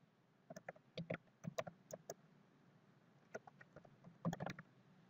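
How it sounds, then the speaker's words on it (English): Typing on a computer keyboard comes through as scattered, close clicks in short irregular bursts over a quiet background, with no talk. "We'll type in estimate's name"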